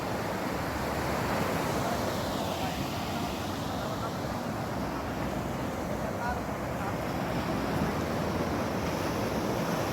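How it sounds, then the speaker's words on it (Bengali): Ocean waves crash onto the beach at Cox's Bazar at night, a continuous close rushing roar of surf and wind, with a voice faintly audible beneath it. "একের পর এক ঢেউ আসতে পড়ছে"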